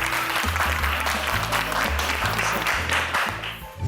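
A studio audience on the Turkish cooking show Gelinim Mutfakta applauds continuously with a dense wash of clapping, while rhythmic low music plays underneath.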